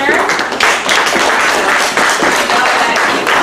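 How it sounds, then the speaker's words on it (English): A crowd in a nursery gives a sustained round of applause for the teachers after the children's performance, with dense clapping running steadily and close throughout. "I want to give a round of applause to the teachers."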